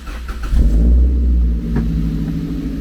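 A Toyota MR-S with a manual gearbox swap cranks and catches, its engine rumbling loudly up to a steady revving idle that holds close and strong through the rest of the moment.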